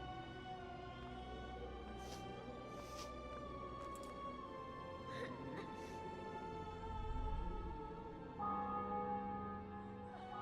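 Church bells ring out in The Witcher 2, with sustained tolling tones layered over a faint background murmur, fairly quiet and distant, the pitch shifting partway through.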